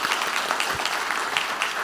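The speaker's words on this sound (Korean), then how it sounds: "우리 많은 선생님들과 사역자들 위해서 우리 격려의 박수" A church congregation applauds its teachers and ministers after a youth retreat, a steady, dense wash of many hands clapping together at moderate loudness, with no voices over it.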